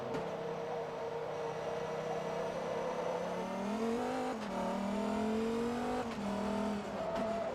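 An American sports car in the racing game Forza Motorsport 2, its engine droning steadily at moderate revs with pitch rising and falling as the throttle is feathered to control rear wheel spin, close and unbroken.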